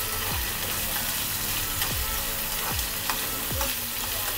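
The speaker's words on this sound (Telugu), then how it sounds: "ఇలా ఆయిల్లో వేపుకోవడం వల్ల రొయ్యలు తినడానికి చాలా టేస్ట్గా ఉంటాయి." Dried prawns fry in hot oil for a prawn and gongura curry, a steady close sizzle with a few sharp scraping stirs of a spatula in the pan.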